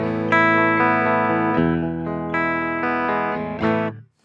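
Distorted electric guitar through a Crazy Tube Circuits Sidekick with no speaker simulation: a few sustained, buzzy chords ring out one after another, loud and harsh, then the last chord cuts off into silence.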